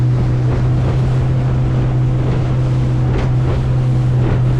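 Loud, steady wind buffets the microphone as a motorboat heads straight into it on the Ord River, with the boat's engine droning and waves slapping the hull throughout.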